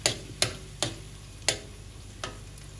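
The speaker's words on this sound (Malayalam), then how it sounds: "ഇനി നമുക്ക് കിസ്മിസ്, അതായത് മുന്തിരി വറുത്തെടുക്കാം." Raisins dropping into hot ghee to fry, a handful of sharp, separate crackling pops spaced unevenly over a faint steady sizzle, close and fairly quiet.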